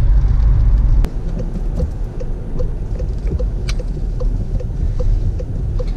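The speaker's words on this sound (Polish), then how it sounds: "Ściemniło się, rozpadało" Steady rain falls outdoors around a parked 2017 VW Golf facelift, a dense broadband wash with scattered drop ticks and a low rumble, loud and continuous with no voices.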